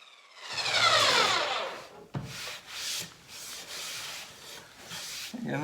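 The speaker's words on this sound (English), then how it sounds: "I'm going to flip it over and do the other side, and then we'll move up into finer and finer sandpaper" Sandpaper rubs across a cherry wood charcuterie board in a series of close scratchy strokes, starting with one long pass and followed by shorter rhythmic swipes.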